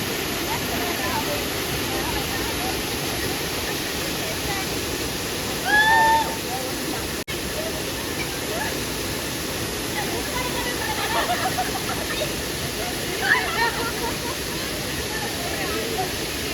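Budlaan Falls waterfall roars as a steady, loud, unbroken rush of falling water, close by, with a brief faint voice or sound passing over it.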